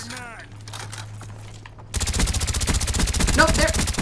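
Call of Duty: Black Ops gunfire in a search and destroy match: after a quieter stretch, loud rapid automatic shots burst in and continue as a dense, steady rattle to the end.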